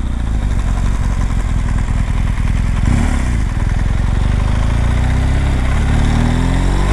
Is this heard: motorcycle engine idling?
yes